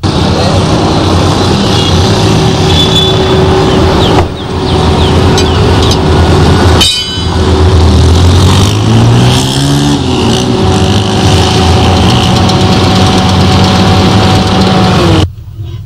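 Car engine drones steadily on a road drive toward Okene, Kogi State, with a continuous low rumble and a rising pitch sweep partway through as the vehicle speeds up, loud and close throughout.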